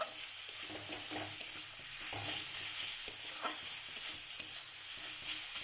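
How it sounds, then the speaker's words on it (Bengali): Onions frying in oil for a fish curry, with slit green chillies added, give a steady close sizzle broken by repeated stirring scrapes and taps, with no talking. "পেঁয়াজগুলো ভাজা ভাজা হয়ে গেছে।"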